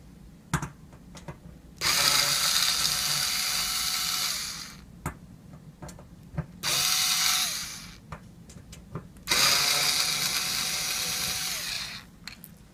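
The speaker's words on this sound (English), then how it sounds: "Now we'll remove the screws that we're holding on the entry pad." A power driver removes screws from the entry pad of a safe's electronic lock: three whirring runs of several seconds each, separated by sharp clicks and taps, close up with no speech.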